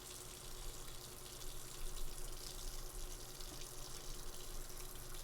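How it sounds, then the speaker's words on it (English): Tap water runs steadily into a kitchen sink while a garlic press is rinsed, a soft continuous hiss and splash with no talk, fairly quiet throughout. "always rinse out your garlic press after you use it"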